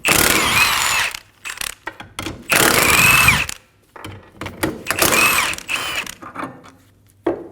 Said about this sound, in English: Using a 19mm socket, we're going to remove the two nuts and one bolt for the lower ball joint.